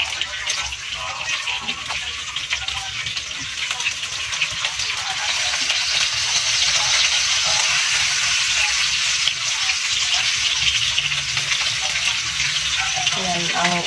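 Fish frying on a home stove, a steady loud broadband sizzle with crackling that runs throughout, with people talking intermittently over it.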